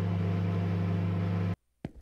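A microwave oven in a video game convenience store runs with a steady low electric hum, then cuts off abruptly, followed by a brief click after a short silence.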